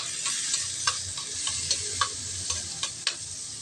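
Onion, then garlic, sautéing in oil in a pan while cooking a pechay and sardine dish, a steady close sizzle with regular stirring clicks of a utensil against the pan.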